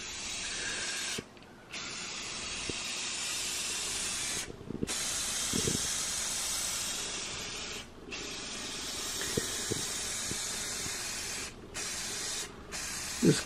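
Spray paint hissing steadily onto the bottom of a bare-bottom aquarium, in long continuous bursts broken by several short pauses between passes, with faint knocks and handling sounds underneath.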